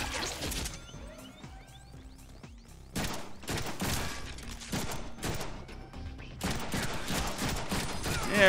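Rapid bursts of video game gunfire from a Deadpool shooter, loud clustered volleys with short gaps, mixed with crashes and impacts in a busy game soundscape.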